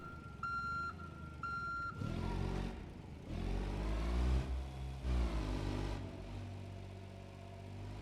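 Two clear electronic reverse beeps come from a forklift in BeamNG video game, then the engine roars and revs in loud surges with a steady drone underneath. No one speaks.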